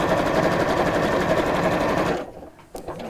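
A domestic sewing machine runs a continuous stitching burst down one side of a small piece, loud and steady for about two seconds before stopping, followed by faint handling sounds.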